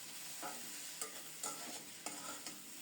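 Dried loitta fish curry sautéing in a pan over low heat, a steady soft sizzle broken by several scraping stirs of the spatula at intervals, close and moderately quiet with no voices.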